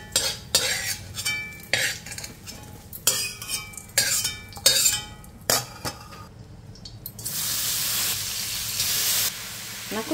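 Bitter gourd pieces frying in oil, stirred with a metal spoon in a pan: repeated clinking scrapes at first, then a steady loud sizzle takes over near the end.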